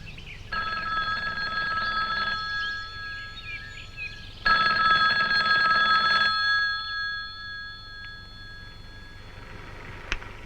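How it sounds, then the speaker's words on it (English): A telephone rings loudly and close by in a 1970s setting, with two long electric bell bursts separated by a pause. A faint trailing tone follows the second burst. "Morgan receives a phone call from a logger named Skip Wood."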